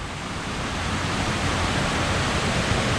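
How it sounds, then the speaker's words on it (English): Big Manitou Falls, Wisconsin's tallest waterfall, in Superior, Wisconsin, heard as a steady, dense roar of falling water, broad and constant with no pauses, fairly loud and uninterrupted by voices. "this is Wisconsin's tallest waterfall"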